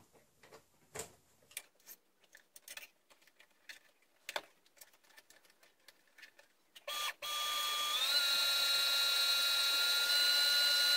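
A sewing machine stitching a Lolita bow: after scattered clicks and handling taps, the motor starts and runs as a continuous loud whir with a steady high whine through the last few seconds; no talking.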